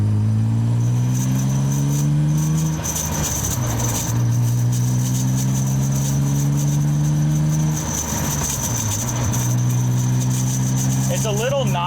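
A manual-swapped BMW E36 engine revs up loud and close, climbing in pitch through first, second and third gear with brief dips at each shift, while someone talks over it.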